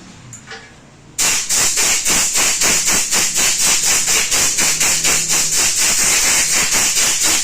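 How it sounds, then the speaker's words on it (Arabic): Compressed air blasts debris off a solenoid valve from a nitrogen machine, a loud steady hiss that starts abruptly and pulses in a fast, regular rhythm, close to the microphone, with no talking. "نبتدي ان احنا ننفخها بالهواء عشان نطير الشوائب اللي عليها"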